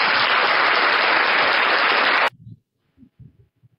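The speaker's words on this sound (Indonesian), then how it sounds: "Bunda kasih aplaus dulu ya." A short burst of dense applause fills the room loudly for about two seconds, then cuts off abruptly, leaving a few faint low thumps and murmurs.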